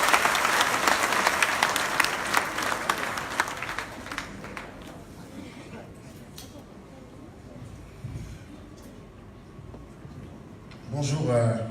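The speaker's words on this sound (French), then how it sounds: "Sous vos applaudissements" An audience in a university hall at UCAD bursts into loud, dense applause that fades over several seconds into quieter scattered clapping before a voice begins near the end.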